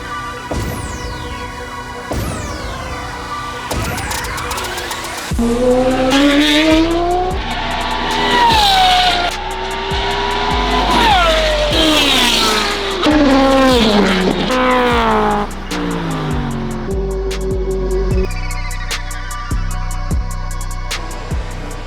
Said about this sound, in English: We're doing a lot of sideways action, drifting a lot, which I wasn't expecting.